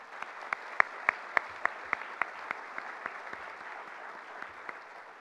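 Sparse, slow clapping at an annual chamber of commerce dinner, following thanks to sponsors. Distinct single claps ring out in a loose rhythm over a faint room hum, thinning and fading toward the end.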